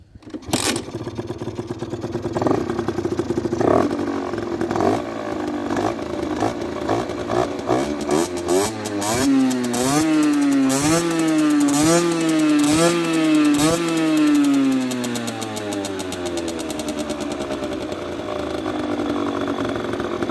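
A small, high-pitched engine buzzes loudly close by, revving repeatedly in quick rising and falling bursts before settling to a steady drone.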